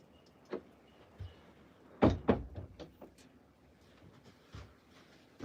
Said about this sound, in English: You see the wind's trying to push the door open.